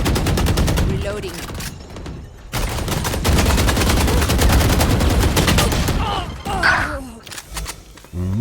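Rapid gunfire in the video game Smol Towers, dense bursts of shots that pause briefly and then resume, loud and close, with a voice breaking in now and then.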